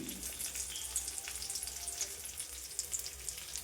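Mackerel fries in a pan with a faint, steady hiss of hot oil, soft crackles and occasional pops close by, and no voices.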